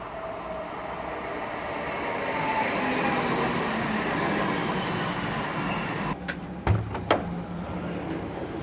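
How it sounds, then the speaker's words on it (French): An Île-de-France tram-train running on rails like a mainline train, heard from inside as a steady broad rumble of wheels and motor that swells and stays loud, with a few sharp knocks and clatters near the end. "c'est un tram-train, mais là il roule comme un train"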